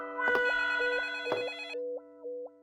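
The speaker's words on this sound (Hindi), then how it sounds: "दूसरा फोन बज रहा है।" Telephone ringing with two sharp electronic bell bursts followed by a warbling trill, clear and close with no voices over it.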